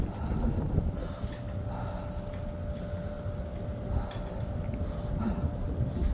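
Cold, snowy outdoor wind buffets the microphone in a continuous rough roar, gusting up and down for the whole stretch with no talking.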